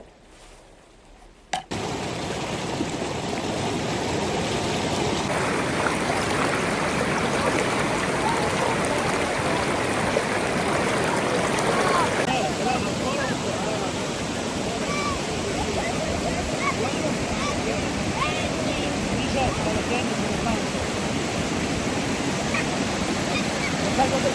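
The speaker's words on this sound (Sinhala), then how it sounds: "ඉතින් ගලාගෙන යන වතුර ඒ වගේම තමයි මේ වතුර පාර මේ ප්‍රෙෂර් එකට තෙරපි එකක් වෙනවා" Rushing water of a hot spring waterfall in Tuscany, Italy, pours steadily as a loud, continuous broadband roar that begins abruptly and holds close and dense with no pauses.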